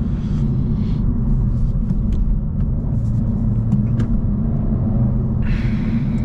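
Steady engine rumble from a 2024 Honda Civic Si with a 1.5 liter engine while driving, a rev-matched downshift barely rising above the continuous drone and road noise.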